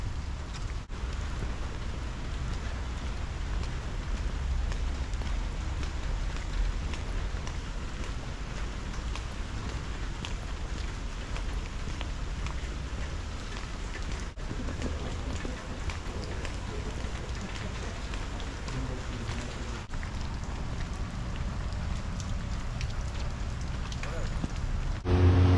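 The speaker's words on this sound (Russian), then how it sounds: "несмотря на столь дождливую погоду" Steady rain falls on a city street in Mariupol, a constant soft hiss of drops on pavement and surfaces lasting throughout at a moderate, even level with no breaks.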